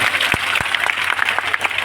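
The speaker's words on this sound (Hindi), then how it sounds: "उसके लिए एक बार जोरदार तालियां बजा दो।" Enthusiastic audience clapping at an open-air welcome ceremony for a member of parliament on World Indigenous Day in Sayla, Jalore, with a sharp, dense, steady patter of many hands and a few louder nearby claps.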